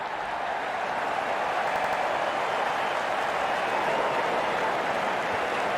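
Stadium crowd cheering and applauding in the cricket video game Real Cricket 22 as the openers walk out, a steady, dense roar of cheers and clapping holding at an even level throughout with no distinct voices.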